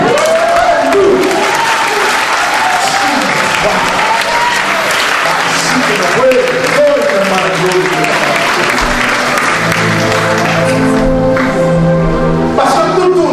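A church congregation applauds and cheers for Jesus, sustained loud clapping from a large crowd with shouts and voices mixed in, while music plays underneath.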